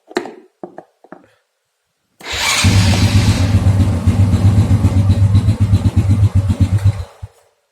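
A Honda Supra Fit motorcycle engine is started by bridging the starter connection with pliers. After a few faint clicks the engine cranks, catches and idles loudly and steadily at close range for about five seconds before cutting off.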